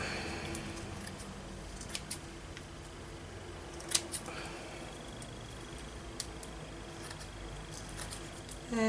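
Scissors snip through a craft decoration in a quiet room, with a scattering of short, crisp cuts spaced irregularly and one sharper snap in the middle.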